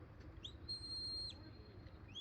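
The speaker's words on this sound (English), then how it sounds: "she's just whistling a series of whistles to tell the dog what to do." A handler at a sheepdog herding competition blows a series of short, sharp, high-pitched whistles to direct the dog, the shrill commands heard faintly at a distance over a soft outdoor rumble.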